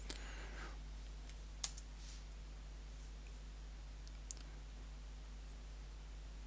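A computer mouse clicks twice, sharp and close, a few seconds apart, with a couple of fainter taps in between over a low, steady electrical hum in a quiet room.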